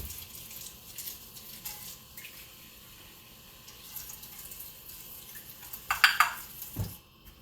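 Cold water running from a sink tap into a small bowl, a brief splashing burst near the end after quiet kitchen background.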